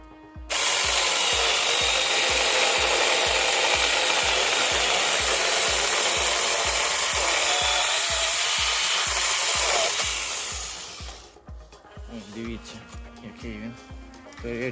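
A miniature cordless portable chainsaw for garden pruning cuts through a branch with a steady buzzing whine for about ten seconds, then winds down. Close and loud, followed by quieter handling noises and faint talk.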